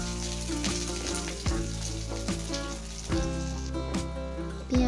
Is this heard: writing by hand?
no